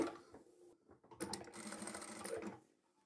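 A sewing machine hemming a bridesmaid dress runs in a short burst with a quiet pause beforehand, a close, rapid mechanical whirring and clatter lasting under two seconds.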